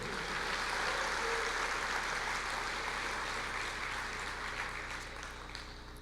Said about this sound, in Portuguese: Pode aplaudir o Senhor antes de ouvir, porque é bom